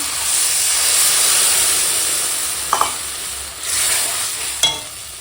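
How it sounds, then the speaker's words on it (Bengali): Water poured into a hot pan of cooked-down spiced tomato sets off a loud, broad, steady sizzle and hiss that slowly eases, with a couple of sharp clinks of a utensil near the end. "দেখো এখন টমেটো একদম গলে গেছে তো এখন দিয়ে দেবো জল"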